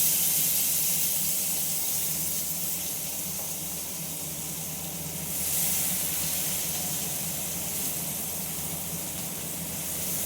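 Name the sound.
ridged gourd frying in a wok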